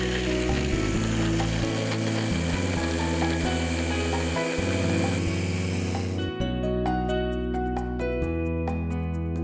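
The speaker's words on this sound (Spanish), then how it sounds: "vamos a trocear el resto de las galletas que nos quedan" Biscuits ground into a fine powder in a kitchen chopper, a loud, close, steady mechanical whirring with rattling and churning, shifting pitch midway as the motor changes speed.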